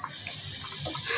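Water poured into a cooking pan of frying vegetables with turnip, a steady close, full-bodied gush over the short stretch with no talk.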